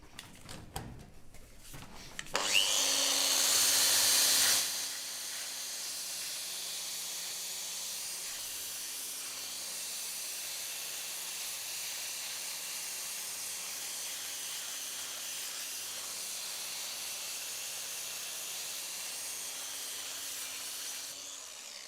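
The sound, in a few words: coated abrasive belt grinding along and over a weld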